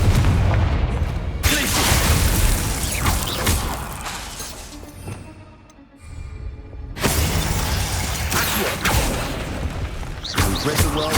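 Confringo fire spell bursting in the video game Hogwarts Legacy inside spider-filled catacombs: loud crashing, shattering blasts separated by a brief lull, with rumbling booms under the game's sound.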